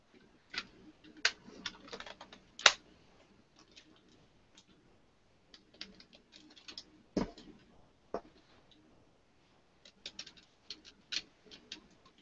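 Plastic buttons of a Sega Genesis controller, opened up for cleaning, click in quick irregular bursts of sharp ticks, close and fairly quiet, with gaps of near silence between clusters.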